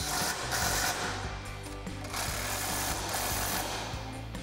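Sway bar end link nuts on a Toyota Tundra fitted with a 3-inch TRD suspension lift are driven tight with a 19 mm socket, a steady, loud rattling mechanical buzz that runs close by for several seconds.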